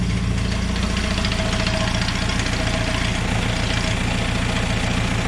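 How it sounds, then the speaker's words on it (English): A Datsun 521 engine with a newly fitted Weber 38/38 carburetor idles while still cold, a loud, steady, close rumble with an even low throb and no pauses. "Idle still warming up, still kind of cold."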